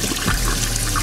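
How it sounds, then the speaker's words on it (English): A toilet flushing indoors, a loud rushing swirl of water that stays steady and close for the whole moment, with no voices over it. "Fred, flush and spray, baby."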